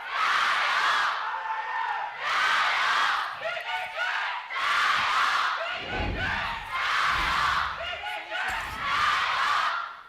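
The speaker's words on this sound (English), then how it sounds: "I actually think the crowd is louder here for the second game than they were for the first" A large arena crowd at a 2018 LPL esports match between Team WE and EDG roars in repeated surging waves of cheering and chanting, each swell lasting about a second, with thuds between them.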